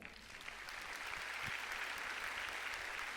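Applause from a church congregation during a sermon, a steady even wash of many hands clapping at moderate distance, continuous for the whole stretch.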